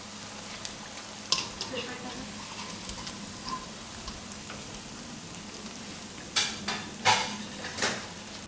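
Cauliflower Manchurian florets frying in hot oil, a steady low sizzle with a few louder bubbling bursts and faint utensil clinks toward the end, no talking.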